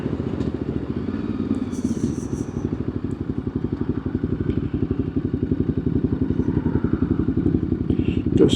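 An old vintage Japanese motorcycle with club plates idles at a club meeting in Tooradin. It gives a loud, close, steady rhythmic thumping beat with faint background activity.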